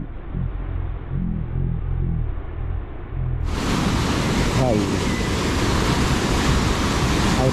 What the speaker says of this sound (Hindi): यहाँ पानी बहुत तेज़ी में बह रहा है